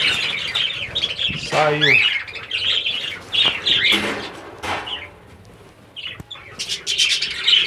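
Many budgerigars chirp and squawk busily in an aviary as females are released among the males, with overlapping shrill calls close by and a brief spoken word.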